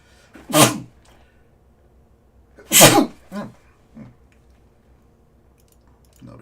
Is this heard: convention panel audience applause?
no